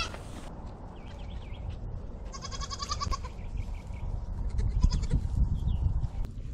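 Several young doelings bleat repeatedly while drying off after a wash on a goat farm, their calls rising over a steady background rustle at close range.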